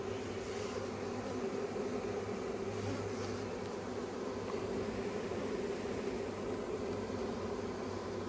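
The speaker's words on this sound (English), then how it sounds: "see where they're fanning their wings here and they're pumping their butts up in the air?" A honey bee swarm fanning their wings at the hive entrance, a dense steady buzzing drone up close with no talk.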